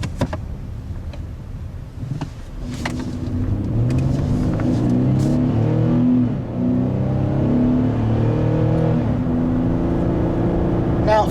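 A 3.5-liter V6 engine in a 2013 Ford Taurus Limited revs up and holds a steady, loud, throaty drone, its pitch rising and falling with the throttle, close by and continuous.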